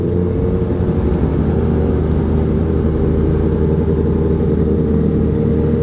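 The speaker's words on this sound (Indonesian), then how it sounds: "Jadi kita bakal adu geber sama Parponauli." A Kawasaki Ninja H2 motorcycle engine runs loud and close, a dense steady mechanical roar that holds without pause and carries no speech over it.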